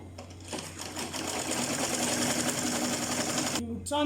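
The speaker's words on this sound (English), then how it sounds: "I will take to my sewing machine. I'm going to sew a straight stitch." A sewing machine runs a straight stitch on fabric for a turban, a dense, steady mechanical whir lasting about three seconds, stopping abruptly, with a brief voice right after.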